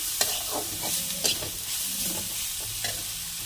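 Chopped potatoes go into a frying pan with eggplant, setting off a steady sizzle of hot oil broken by the scrape and clatter of stirring, close and alone with no talk.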